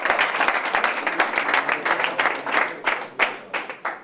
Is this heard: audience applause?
yes